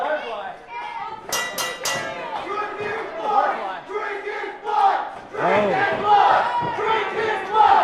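Crowd at an independent wrestling show yelling and shouting in overlapping, rowdy bursts, loud and close, with a sharp clattering hit partway through and voices exclaiming among the noise.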